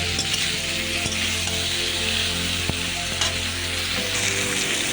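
Pumpkin and egg curry sizzles steadily in a pan as it is sautéed, a dense, continuous frying hiss with occasional soft stirring knocks, close and fairly loud throughout with no talking.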